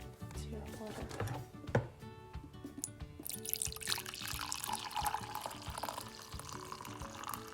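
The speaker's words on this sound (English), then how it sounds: "And just add the syrup water." Syrup water trickles and drips steadily as it is poured in a busy kitchen, with a brief clatter partway through and a soft pouring wash building in the second half.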